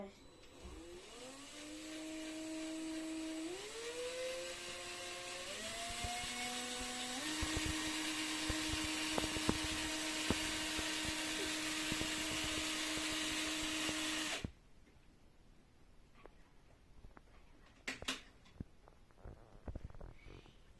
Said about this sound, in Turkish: Şimdi roketimizin kalkışını izledik.